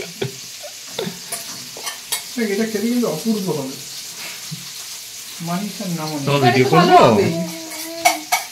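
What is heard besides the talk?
fish frying in oil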